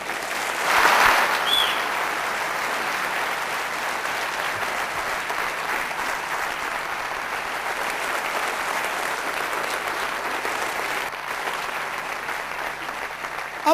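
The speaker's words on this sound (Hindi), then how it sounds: "जोरदार ताली इनके लिए हो जाए" An audience at a network-marketing motivational seminar breaks into sustained applause, louder at the start and then continuing as a steady, dense wash of clapping.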